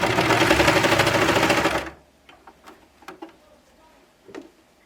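A serger stitches and trims a seam on cardigan fabric, a loud rapid mechanical whirring for about two seconds that stops abruptly, followed by a few faint clicks and taps.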